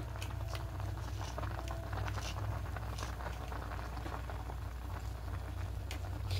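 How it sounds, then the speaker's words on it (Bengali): Payesh, a rice pudding, simmers and bubbles in a pot, a steady close hiss of popping bubbles with a constant low rumble underneath, continuous throughout. "এখন আর একটু সেদ্ধ হবে।"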